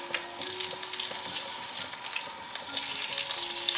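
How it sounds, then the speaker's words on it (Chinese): Steamed potatoes fry in oil in a pan, giving a continuous close crackling sizzle with scattered small pops and a faint tonal hum underneath, with no talking. "把一些油放到锅子里面，把刚刚蒸熟的马铃薯放进来"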